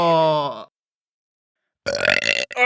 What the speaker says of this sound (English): control your burps!